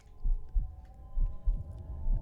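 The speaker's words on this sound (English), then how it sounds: "I hear heartbeats. I think that's heartbeats." Heartbeat sound in the horror video game Port of Call: a low, muffled double-thump pulse repeating at a steady, fairly quick rhythm over a quiet droning hum.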